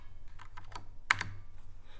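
Keys clatter on a computer keyboard in a quiet room, a few soft taps and one sharper pair of clicks over about two seconds.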